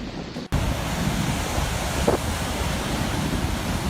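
Rough surf surging into the flooded roads of an Irish coastal town, a dense, steady roar of waves and wind buffeting the microphone after a brief cut, with no voices.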